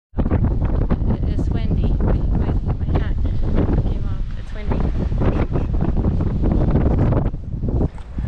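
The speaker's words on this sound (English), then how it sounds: "So yeah, slightly windy today." Loud, steady wind buffeting the microphone at a lake, a continuous rough rumble with gusting texture throughout.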